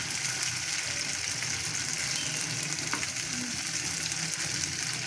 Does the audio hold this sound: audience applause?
no